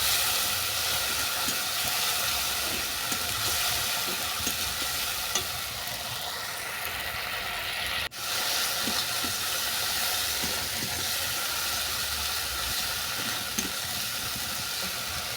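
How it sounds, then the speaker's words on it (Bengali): Spice paste of ginger, garlic, onion and grated tomato fries steadily in oil with a continuous close sizzle and hiss, occasional stirring scrapes, and one brief sharp knock near the middle, with no talking. "এরপর যতক্ষণ না মশলা থেকে তেল ছাড়ছি ততক্ষণ এই মশলাটাকে কষিয়ে নিচ্ছি।"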